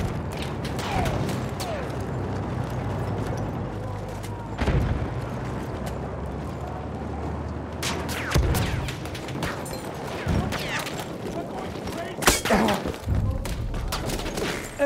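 Enemy artillery fire in Battlefield 1 thuds and booms in scattered heavy impacts over a rumbling battlefield, with sharp blasts near the middle and end; game speech murmurs occasionally.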